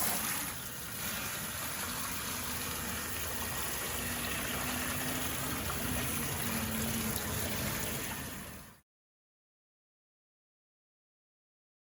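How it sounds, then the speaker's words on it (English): Clear water flushes steadily through a motorcycle engine part from a low-pressure hose, a continuous close hiss and splash lasting several seconds before cutting off abruptly into silence. "we are just going to flush this with some clear water until it runs clean"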